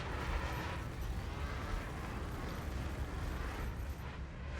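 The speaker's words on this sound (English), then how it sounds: "Hit him with the cannons." Spaceship cannons firing in a Star Citizen dogfight against a Scorpius, a dense, continuous barrage of booming, rumbling bursts that stays loud and steady throughout.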